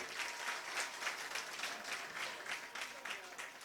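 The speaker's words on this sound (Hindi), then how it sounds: "इनके सम्मान में तालियां बजाइए" An audience at a religious discourse claps steadily, continuous applause of many hands with a fluttering rhythm, moderately distant and fairly soft throughout.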